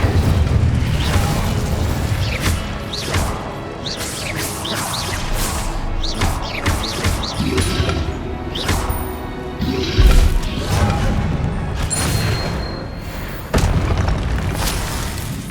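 Spell blasts from the Incendio fire spell in Hogwarts Legacy burst out in a rapid, loud run of booms, whooshes and crashes that barely pauses, with spell effects and impacts layered throughout.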